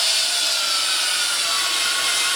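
Steady, continuous power-tool whir of a drill boring holes in wood for a clothes valet, close and loud, with no voices.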